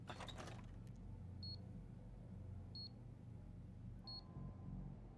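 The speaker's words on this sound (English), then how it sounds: "you don't hear the beeping until you open the door" Grenade beeping in the video game Deus Ex: Human Revolution: three short, sharp electronic beeps spaced evenly about every 1.3 seconds over a low ambient hum, with no talk.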